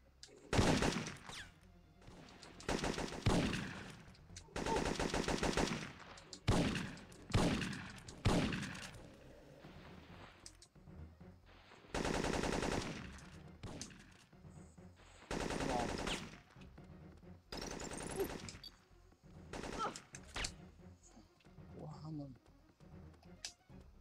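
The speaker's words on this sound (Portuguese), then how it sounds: "Disparando!" Bursts of machine gun and rifle fire in the video game Syphon Filter 3, loud broadband volleys repeating across the clip in short and long bursts, with game sounds between them and no voices heard.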